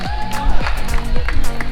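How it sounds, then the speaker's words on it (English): Roadside spectators cheer and clap for passing runners at the Edinburgh Marathon, a steady wash of crowd noise with scattered claps and shouts, close and continuous. "Crowd's keeping me going."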